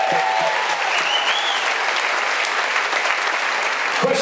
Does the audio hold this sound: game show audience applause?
yes